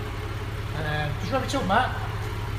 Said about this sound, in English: That beautiful Boxster engine as well.